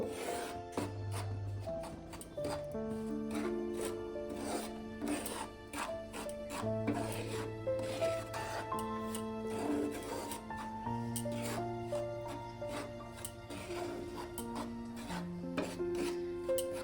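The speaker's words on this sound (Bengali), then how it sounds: "একটু নেড়ে নেড়ে ভালো করে একটু এটাকে ভেজে নিয়ে" Around 200 grams of rice flour for chuimui pitha is dry-roasted and stirred in a pan, producing repeated soft scraping and rubbing strokes beneath background music with a melody.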